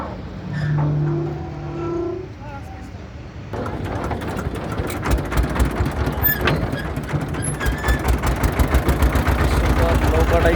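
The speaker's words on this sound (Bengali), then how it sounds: "সুন্দর নৌকাটা স্টার্ট দিল" A boat engine on a riverbank starts with a mechanical cough and then settles into a rapid, chugging idle that stays fairly loud. Voices are heard near the start.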